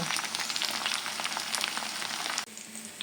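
Food, cutlets among it, fries in a pan on a home stove, giving a dense, continuous crackling sizzle that stays loud and close. Near the end it briefly drops and then carries on more softly.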